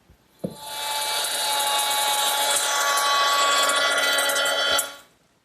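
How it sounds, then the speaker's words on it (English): A woodworking router fitted with a 1/4-inch slot cutter grooves the edge pieces of a writing desk, a loud, steady high-pitched whine running about four seconds after a sharp start-up click, then cutting off abruptly. "I'm going to use my router with a 1/4-inch slot cutter"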